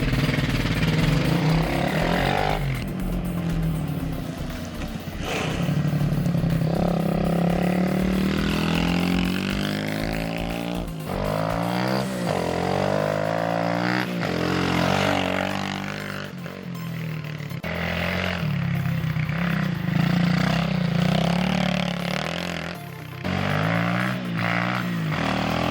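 A Trail Master MK125 dirt bike engine on a test ride revs up and down repeatedly, its pitch rising and falling in loud, continuous surges.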